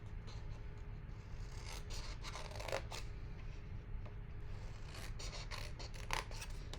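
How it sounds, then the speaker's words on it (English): Scissors cutting craft material, giving soft repeated snips and scraping rustles at an uneven rhythm over a steady low background hum, faint and close. "we're going to cut this one the same way that we cut the other one"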